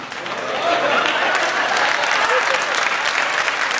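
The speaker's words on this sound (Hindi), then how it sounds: "ताली तो आप लोग ऐसे बजा रहे जिसमें बारात आए थे" An audience at a Hindi comedy poetry gathering breaks into applause that swells quickly and holds steady as a dense patter of many hands clapping.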